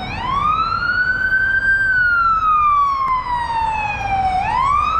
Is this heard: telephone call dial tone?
no